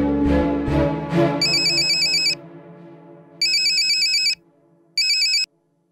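A phone ringtone plays three loud, close electronic bursts separated by short gaps, following a few resonant musical notes at the start.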